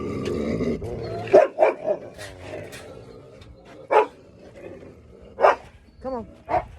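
A dog barks in short, sharp bursts, about six separate barks spaced irregularly, close by, with a quieter whine and background sounds in between.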